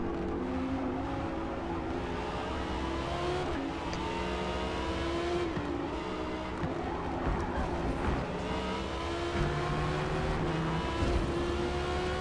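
In Forza Motorsport, a Porsche 911 and an Audi R8 race wheel to wheel at Spa at night. Layered engine whines climb and fall with each gear change, steady and close throughout.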